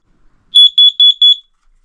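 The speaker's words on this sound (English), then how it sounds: "you have smoke alarms and you have carbon monoxide alarms, like this one" A caravan's carbon monoxide alarm, pressed for a test, beeps in a quick burst of several shrill, high-pitched electronic pulses, loud and close, then falls silent.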